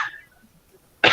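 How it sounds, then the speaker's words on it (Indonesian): A single burst of coughing from an adult during an online school parents' meeting, loud and close, following a near-silent pause with a faint trailing voice at the start. "mohon maaf Bapak Ibu masih batuk"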